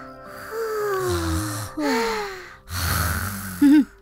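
A cartoon panda snores in a children's bedtime cartoon, with several exaggerated, drawn-out breathy snore cycles in a row, loud and close, ending with a short squeaky sound.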